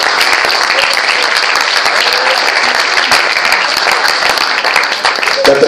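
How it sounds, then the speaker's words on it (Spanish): A church congregation applauds during a Spanish-language service, a loud, continuous patter of many hands clapping together close by, with some voices faintly audible within it. "Den un aplauso al Señor, iglesia."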